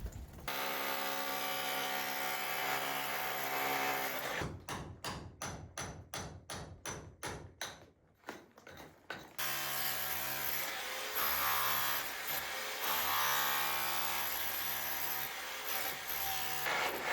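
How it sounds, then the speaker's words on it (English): Steel chisel and bar working mortared stones loose from an outdoor wall, a run of sharp rhythmic knocks in the middle between stretches of steady scraping and rubbing, close and fairly loud. "I was able to chisel and lever them out."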